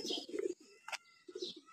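Racing pigeons coo in a loft at Savar, giving soft, low throaty calls in two bursts separated by a short pause, with a faint high chirp between them. The calls are quiet and fairly close.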